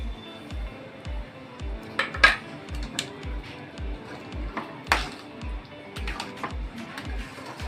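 Paneer pieces dropped into a pot of dhaba-style shahi paneer, giving a regular series of soft low thuds about twice a second, with light clinks of a metal spoon against the pot between them.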